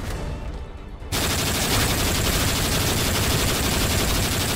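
Sustained automatic gunfire in Modern Warfare 3 Survival co-op on the Seatown map, bursting in loud after a second and rattling continuously without pause to the end.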